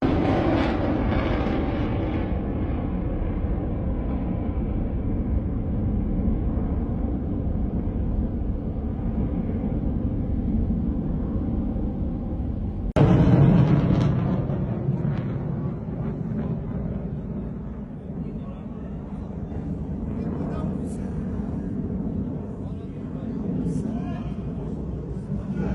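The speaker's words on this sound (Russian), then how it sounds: "Короче, беспилотники у нас." A steady droning hum of military drones flying overhead near the sea, persisting throughout at moderate distance, with a sharp thump partway through and people talking nearby.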